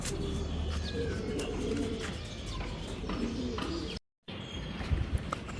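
Racing pigeons coo softly nearby among a few light chirps and rustles, with a brief dropout near the end.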